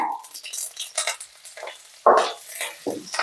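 Asafoetida, green chillies and curry leaves crackle and sizzle in hot oil, with bursts of spitting and a sharp pop as something hits the pan, plus light stirring.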